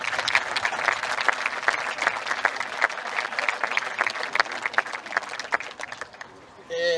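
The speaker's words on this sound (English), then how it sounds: "So big round of applause for them." Crowd applause at a Down GAA minor football championship B final between An Ríocht and Drumgath, steady dense clapping lasting several seconds before it tapers off near the end.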